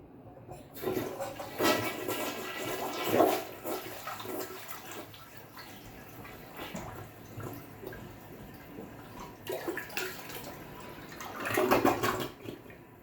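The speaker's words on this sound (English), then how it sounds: "So we'll go ahead and try plunging this out really quick." Toilet being plunged to clear a clog, giving irregular watery gurgles, sloshes and drips at moderate distance, with louder surges around the middle and end and no talking.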